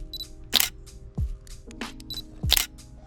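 A phone camera snaps pictures of the wiring plugs on a Harley Dyna Low Rider S, two crisp shutter clicks about two seconds apart, close by, with faint mechanical ticks between them.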